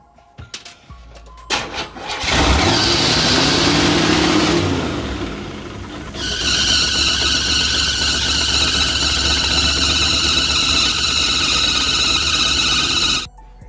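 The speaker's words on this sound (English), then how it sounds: "Just start it up." A 1986 Cutlass with a 231 V6, a rebuilt two-barrel Dualjet carburetor and a swapped fuel pump, cranks briefly, catches and roars loudly. It then settles into a steady close run with a high whine until it abruptly stops.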